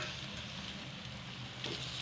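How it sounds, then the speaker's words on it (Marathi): Washed fenugreek leaves hit a hot pan for a Marathi-style dry methi dish, giving a steady, close, loud sizzle throughout with no talk over it. "आणि आता याच्यामध्ये आपण घालायचे मेथीची भाजी."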